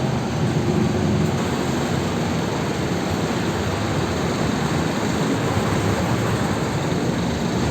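Steady, dense rumbling roar of an MRT metro train running past in the Philippines, continuous and loud throughout with no voices.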